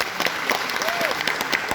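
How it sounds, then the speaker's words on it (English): Audience applause in Chowdiah Memorial Hall, Bangalore, at a Patriots Day event: a short, steady patter of many hands clapping in a large hall, fairly loud and without talk. "big round of applause for him."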